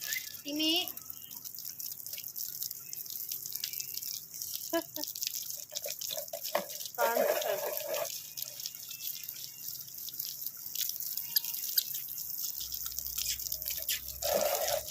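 A pet lovebird splashes while bathing, with dripping and trickling water running through the whole stretch under intermittent nearby talking.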